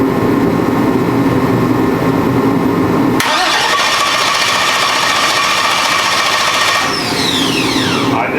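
A twin-turbo Chevrolet Nova engine cranks with a steady whirring starter, then catches and fires into a loud, continuous rough roar that holds close and strong through the end.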